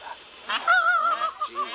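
Loud nasal honking bird calls close by, a drawn-out wavering cry followed by shorter squawks, peacocks calling.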